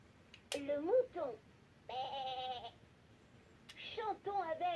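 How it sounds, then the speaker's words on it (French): A children's musical toy plays several short, electronic-sounding sheep bleats, each separated by a brief pause, alongside the toy's recorded sing-song voice. "Le mouton."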